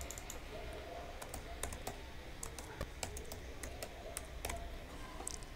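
Keystrokes on a computer keyboard while an invoice number is entered into a PHP and MySQL admin page, a steady run of light, quick clicks at close range over a low background hum, with no talking.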